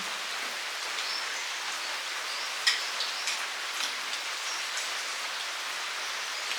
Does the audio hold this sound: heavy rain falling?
yes